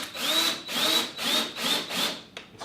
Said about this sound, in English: I'm going to use my power screwdriver for this part